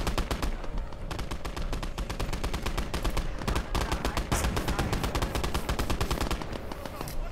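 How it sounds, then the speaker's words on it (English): Sustained machine-gun fire pours onto a tank in the strategy game Last Grenadier 1946, a fast, steady stream of sharp shots that barely pauses, loud and close throughout. "Is that just shooting at the tank?"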